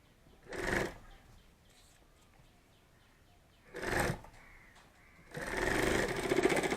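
Sewing machine stitching a bag handle in three short bursts, two brief runs and then a longer one, with quiet pauses between.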